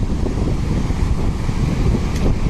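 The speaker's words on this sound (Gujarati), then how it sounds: "અત્યારે સમુદ્ર એકદમ ગાંડો છે, મોજા એકદમ ઉછળી રહ્યા છે" Rough surf surges onto a beach below a cliff in Varkala, Kerala, with the sea wild and the waves high. A steady, loud roar of breaking water runs throughout, mixed with gusty wind buffeting the microphone and no voices.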